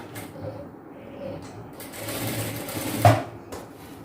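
Sewing machine stitching a boat neck top with a quarter-inch seam, a steady close whirring run across the whole stretch with one brief louder knock partway through.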